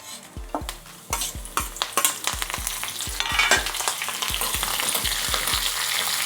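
Mustard seeds, cumin and ginger frying in hot oil in a pan for tempering, with a steady sizzle and a series of regular, loud spoon-scrape stirring strokes near the mic, no talk.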